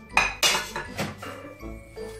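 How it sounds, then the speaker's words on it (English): A knife chopping tomatoes into smaller pieces for homemade ketchup, heard as several close, sharp knocks and clinks on a board with uneven rhythm and no talking. "Just reducing the sizes, chopping them off."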